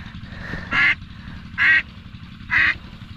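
Three loud, evenly spaced duck quacks over a low background rumble as a flock of ducks is herded.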